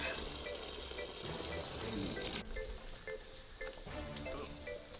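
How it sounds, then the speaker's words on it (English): Water rushes out of a drip irrigation line being flushed of dirt, a loud steady hiss that drops to a quieter trickle midway, with a voice speaking over it. "Let's flush out all the dirt."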